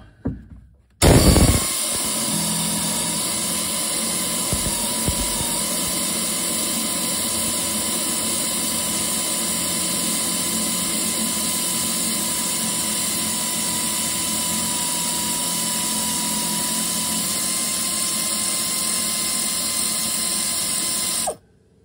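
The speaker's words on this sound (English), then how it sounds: "air ratchet in there and see if I can get that off. This is going to get loud." An air ratchet removes a shock absorber nut on a 1967 Ford Falcon, starting abruptly with a loud, continuous mechanical whine and rattle for about twenty seconds before cutting off.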